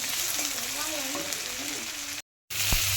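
Tomatoes with salt, turmeric, chili powder and ginger-cumin paste sizzle steadily in a pan over fried potatoes for a fish roe curry, a continuous close frying hiss with a brief break near the end, while a voice talks over it.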